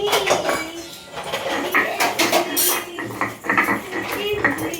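A kadai (wok) being handled in a home kitchen while cooking taro leaves with hilsa, producing metallic clanks and scrapes of pots and utensils mixed under ongoing talk.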